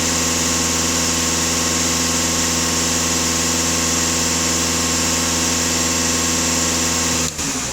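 Volkswagen Passat B8 engine idling, a steady, even hum with a constant low drone and no change in revs, heard close and alone until it ends abruptly.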